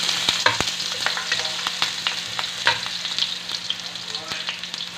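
Chopped onion sizzling and frying in hot oil in a pan, a continuous close crackle with small pops and occasional stirring scrapes.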